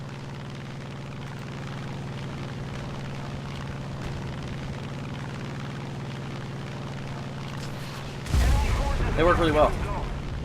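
War Thunder artillery fire in a ground battle with an IS-6 tank nearby: a steady low engine rumble, then a loud heavy blast near the end, followed by a burst of speech.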